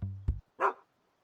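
A happy cartoon dog in the Dogwalk video game gives a short bark, then a second brighter yip, two brief close sounds followed by silence.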